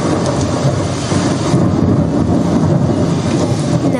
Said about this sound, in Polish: W drodze zaskoczyła ją wielka burza.